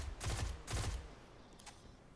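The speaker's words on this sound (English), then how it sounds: "And I'm just firing right down the line." Two loud bursts of rapid automatic gunfire from a shooter video game, each about half a second long, followed by a fainter, sharp single shot.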